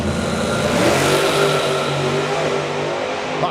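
A nitrous Pro Mod drag car with a roughly 15-litre V8 roars down the strip, a loud sustained engine howl rising in pitch, with no voices.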